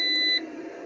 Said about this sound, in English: there you go, it's beeping again.